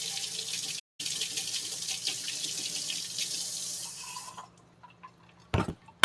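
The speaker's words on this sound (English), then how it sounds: "I'm going to add a little bit of water" Water pours steadily into a cocktail shaker for a few seconds, then stops, followed by a brief clink.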